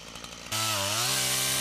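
A chainsaw revs up abruptly and roars steadily as it bites into a standing tree during felling in an Alaskan village, loud and close, following a brief idling rattle.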